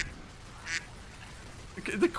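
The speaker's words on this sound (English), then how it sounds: "Get that duck out of here." A duck quacks twice in a team shooter game, first a short quack then a louder, busier burst near the end, over a quiet background hum.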